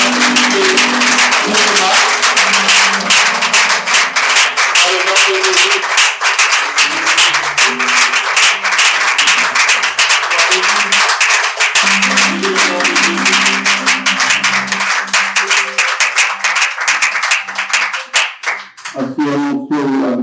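Applause and clapping for the vice-president at a collective fasting and prayer church gathering, a long loud continuous wash of claps with music and voices underneath throughout.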